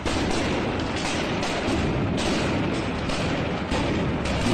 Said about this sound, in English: Just listen to the number of explosions in this clip